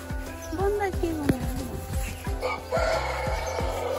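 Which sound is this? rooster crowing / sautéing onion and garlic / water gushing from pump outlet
rooster crowing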